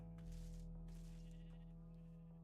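A sheep bleats in the Minecraft video game, a single sustained call that rings out clearly over a steady low hum of background music.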